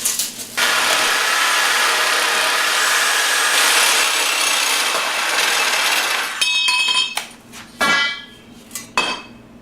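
A 1¼ inch steel pipe is sawn in a long, steady cutting stroke, followed by a few sharp metallic clinks and knocks as the cut finishes.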